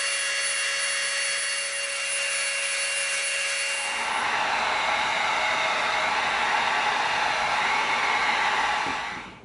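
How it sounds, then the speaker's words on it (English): A Dremel rotary tool cuts into EVA foam while lightsaber props are shaped, first as a steady high-pitched whine, then joined midway by a louder, broader grinding rasp that carries on loud and close to the end, with no talking. "Now we're gonna come in with our Dremel."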